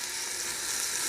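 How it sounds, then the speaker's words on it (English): Beef short ribs sizzle in a hot Ninja Foodi pressure cooker, a close, steady hiss of frying with no break and no voices. "the Ninja's plenty hot. I'm going to set some of this in there. You can hear it sizzling a little bit."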